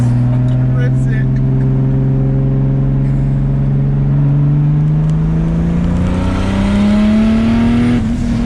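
Turbocharged BMW E30 with an M50 engine pulling hard under acceleration, a loud, close engine note rising steadily in pitch for several seconds before easing, with a brief voice heard over it.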